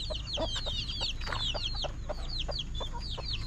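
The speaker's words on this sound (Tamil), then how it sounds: "கோழி பார்த்தீங்கன்னா இங்கே பாருங்கள்." A hen clucks in quick, repeated bursts among other chirping fowl, moderately near and steady throughout, over a low background hum.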